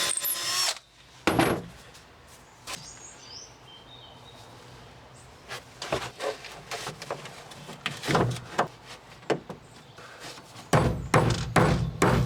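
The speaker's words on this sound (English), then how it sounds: "I drill a 6mm hole through the plywood" A power drill bores a 6mm hole through plywood while fitting a truck bed load extender, in loud bursts of whining revving with short pauses between, close and alone.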